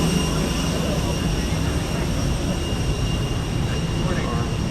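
Steady cabin drone of an airplane engine on a flight to Kingston, Jamaica, a continuous low roar with a faint hiss, loud and unchanging throughout.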